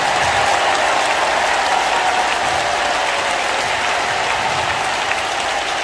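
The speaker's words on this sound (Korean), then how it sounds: "이런 박수를 좀 세게 쳐봐요" A large crowd at a Christian rally claps hard and continuously, a dense, loud wash of applause held at an even level throughout.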